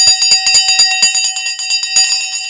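A bell rung repeatedly at a live stock market opening, a bright rapid series of metallic strikes with sustained ringing tones, loud and close with no talk over it.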